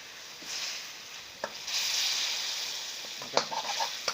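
Spicy stir-fried crispy fried catfish in a pan gives a soft, close sizzle with a few light stirring scrapes and clicks, fairly quiet throughout.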